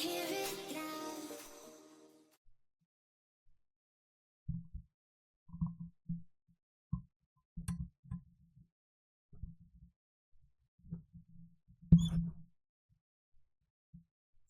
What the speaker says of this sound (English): I hear the sounds of your heartbeat.